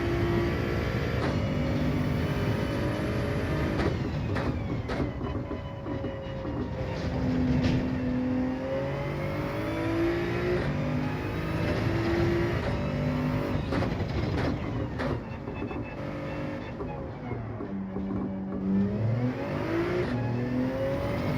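A Toyota Supra's engine revs and shifts through gears while racing in Gran Turismo 7, a steady mid-level drone rising and falling with acceleration and no voices.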